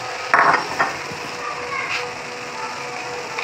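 Boiled chicken being added to cooked masala in a pan with the flame off: a few sharp scraping clatters of spoon against pan early on, then softer stirring and faint sizzle, with a voice talking quietly underneath.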